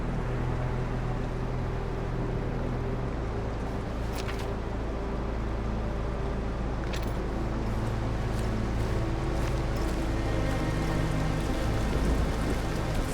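Steady rain pours down in the video game The Caribou Trail, a dense continuous patter of drops on surfaces with a low constant rumble beneath and occasional sharper splashes, no voices.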